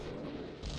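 A rocket launcher firing in DooM, one loud, dense, booming blast that fills the short moment with a heavy low rumble.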